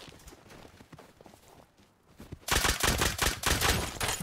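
Rapid bursts of gunfire in the survival video game Rust, with quieter scattered shots and footsteps before a sudden loud volley of repeated shots in the latter half.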